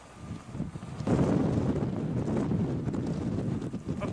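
Strong wind buffets the microphone on a slippery mountain trail on Hallasan, a steady, roaring rumble that swells after the first second and continues unbroken with no voices.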